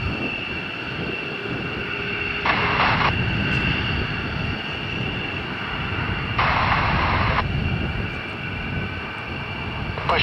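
A Polish M-28 Bryza twin-turboprop airplane taking off at an air base exercise, a loud steady engine drone with strong tonal whine, close and continuous, as short radio calls cut in over it.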